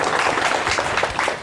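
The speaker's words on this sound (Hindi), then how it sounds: "जोरदार तालियां" Applause at an honouring ceremony, many hands clapping in a fairly dense, slightly uneven patter that carries through, with a few louder individual claps standing out.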